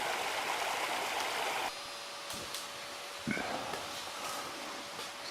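A river running through bush in the Blue Mountains, NSW, Australia: steady rushing water that drops back partway through, leaving a quieter flow with a few brief knocks and clicks near the microphone.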